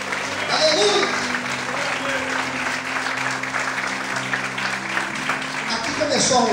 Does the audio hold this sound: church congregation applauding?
yes